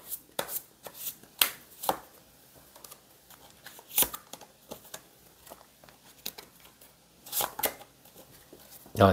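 Tarot cards are shuffled and drawn by hand, giving bursts of crisp riffling and sharp card slaps spaced across the clip, close and fairly loud, with quiet pauses between.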